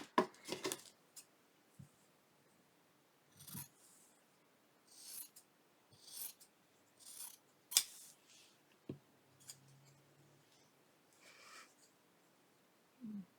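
Scissors snip paper pieces for a tab journal in a quiet room, making short, crisp cuts in irregular bursts with pauses between them.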